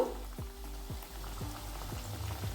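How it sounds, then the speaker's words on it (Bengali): Shaped chicken cutlets fry in hot oil in a pan, giving a steady close sizzle with a few soft bubbling pops rising through it. "চিকেনের শেপটা দিয়ে দিচ্ছি প্রথমে আমি তিনটে দিয়ে দিয়েছি পরে আবার ভেজে নেব"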